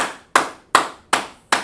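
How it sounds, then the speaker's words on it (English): Four loud, evenly spaced hand claps ring out sharply, close and alone, each with a brief roomy decay. "So we clap it up for y'all."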